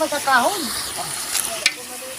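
Food frying in a pan at a rural Filipino home feast, being stirred, with a steady sizzle and a few scraping stir sounds near the microphone, and a voice talking briefly over it.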